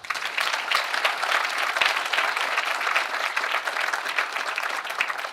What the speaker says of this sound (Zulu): ngicela ukuthi nibanike ihlombe